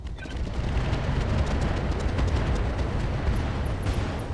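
Missile volleys and explosions from mech combat in the RogueTech video game, a loud, dense, continuous rumbling barrage of blasts lasting several seconds with no speech over it.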